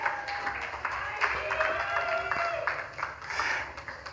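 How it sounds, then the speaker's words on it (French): Audience clapping at an awards ceremony fills the hall as a fairly soft, continuous patter, mixed with a voice and some tonal background sound. "On applaudit bien fort."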